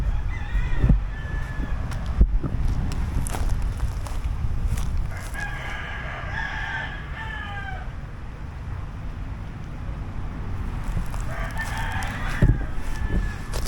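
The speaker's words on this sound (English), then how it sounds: "There's definitely chickens." Chickens clucking and a rooster crowing at a distance outdoors near a new-home development in Haines City, Florida, faint calls rising over a low rumbling background.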